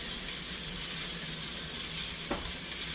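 Pork and mushrooms tossed in a pan of hot garlic, chili and ginger oil, giving a steady, loud close sizzle throughout with a brief sharper stir or toss near the end.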